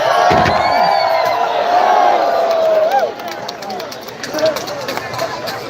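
Crowd of spectators cheering and shouting at a Red Bull Soapbox race in Edmonton, loud and continuous, with a swell of voices early on that eases after a few seconds.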